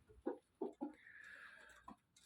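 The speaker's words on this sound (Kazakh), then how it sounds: "құрық болып жатқан тауықты көрсетем" A broody hen gives a few soft, low clucks close by, spaced irregularly, followed by a quieter drawn-out murmuring sound, all faint with no voices.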